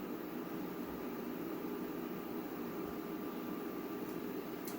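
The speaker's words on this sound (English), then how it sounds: "If you hear think you hear my air fryer in the background" A countertop air fryer runs in a home kitchen, giving a faint, steady fan whir that stays constant in the background.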